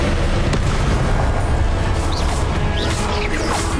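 Spell effects in the video game Hogwarts Legacy: a loud, dense rumbling blast with whooshing magical swirls and faint rising chirps layered over it, sustained throughout.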